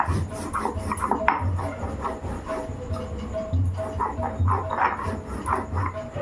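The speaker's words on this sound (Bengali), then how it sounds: "তো এই যে এখন জিরে আর ধনেটা বেটে নিচ্ছি।" Cumin and coriander seeds ground by hand into a paste in a home kitchen, giving a steady, close rasping and rubbing scrape that runs throughout with no talk.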